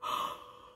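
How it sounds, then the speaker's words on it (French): A single short, breathy yawn-like gasp, close and quiet, made while trying to unblock plugged ears. "je baille pour essayer de me déboucher les oreilles"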